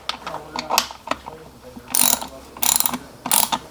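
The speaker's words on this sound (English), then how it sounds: "I'm just gonna tighten it." Ratcheting metallic clicks from a tool tightening a part on a 1973 Triumph Spitfire engine, coming in several loud close bursts separated by brief pauses.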